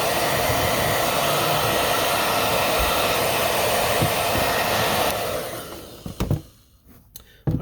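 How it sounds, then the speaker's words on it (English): A hair dryer heats leather chukka boots, roaring loud and steady at close range before cutting off, followed by a few faint handling clicks and knocks. "Then I'm going to heat up the leather and then apply it"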